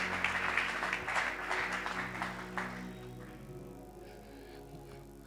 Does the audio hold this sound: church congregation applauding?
yes